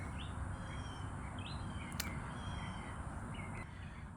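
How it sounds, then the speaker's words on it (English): Birds call outdoors over steady background noise, with a few short chirps and caws scattered through, fairly distant. "listening to the birds"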